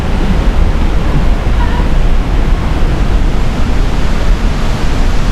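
River water rushing heavily over slippery stones, a steady loud broadband roar that fills the whole clip without pause.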